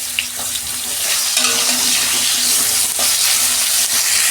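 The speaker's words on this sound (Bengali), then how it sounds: "আলু বেগুন একসঙ্গে ভেজে নিচ্ছি।" Potato and eggplant fry together in hot oil left from frying fish, giving a close, dense sizzle with stirring scrapes and no voices.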